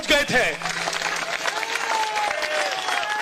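An audience at a public gathering breaks into loud applause at the start, and the clapping carries on steadily under an amplified voice.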